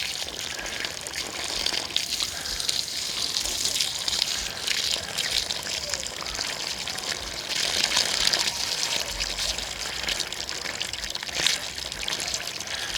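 Water runs and trickles steadily while orchard trees are watered, a continuous close splashing hiss with brief surges and sloshes throughout.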